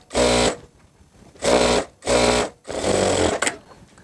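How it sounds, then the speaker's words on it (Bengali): Sewing machine running back-stitch bartack on palazzo fabric, three short bursts of fast motor whirring then a longer run, loud and close with brief pauses between. "হাইয়ের মাঝখানে ঠিক এখানে একটা বারটেক দিব"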